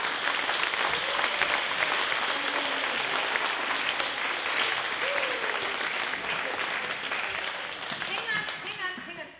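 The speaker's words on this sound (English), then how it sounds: "for that they deserve a round of applause" Sustained audience applause for students at a school awards night, dense clapping from a large crowd that stays loud throughout and thins slightly near the end, with speech faint underneath.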